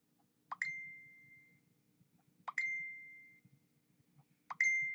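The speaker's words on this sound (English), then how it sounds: "all those messenger notifications that I didn't get earlier, I just got them now" A burst of Facebook Messenger notification sounds: three identical pop-and-chime alerts arrive about two seconds apart over a faint low hum, each sharp and bright, then quickly fading.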